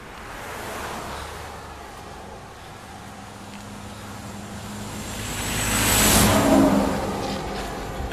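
A large truck passes close on a 35 mph road during a roadside walk through Nantahala, building into a loud whoosh of engine and wind around six seconds, with steady broadband traffic rumble before and after.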